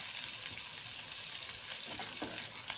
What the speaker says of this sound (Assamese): অলপমান তেলতে মই পিঁয়াজখিনি অলপ ৰংচুৱাকৈ ভাজি ল'ম।